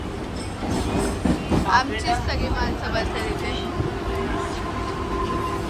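A Mumbai suburban local train runs toward Kharghar, giving a steady rumbling interior drone with faint rattling, while someone speaks briefly over it.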